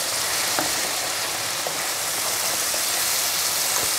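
Homemade tomato sauce for a vegetarian lasagna sizzles and spatters steadily in a hot pan while being stirred, a continuous bright crackle with a few sharper pops, close and fairly loud with no voices.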